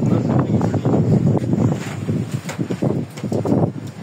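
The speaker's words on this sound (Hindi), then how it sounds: "इतनी तेज हवा चल रही है।" Strong wind gusting through a night storm around an outdoor bird enclosure, a loud continuous rushing roar with buffeting against the microphone and some rustling throughout.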